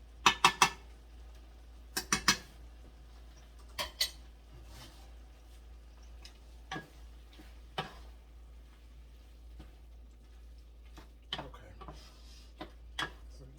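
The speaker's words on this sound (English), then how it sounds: "Getting the sofrito mixed in." A spoon clinks and scrapes against a bowl while Goya sofrito is mixed into taco dip, with a cluster of quick taps at the start and then sparse, quiet knocks spread out over the rest.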